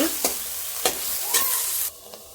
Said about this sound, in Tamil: இது வெங்காயம் இந்த அளவுக்கு வதங்கினது போதும்